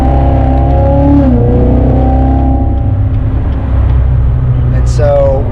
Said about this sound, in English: there's a little throttle blip